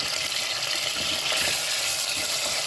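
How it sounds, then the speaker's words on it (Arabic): Meat sizzles in hot oil as it is stirred in a pan for an Algerian garlic dish, a dense, loud and steady frying hiss close up, no voices. "درنا الزيت كي تسخن الزيت مليح نديرو اللحم تاعنا يتخلى. نحركو اللحم تاعنا"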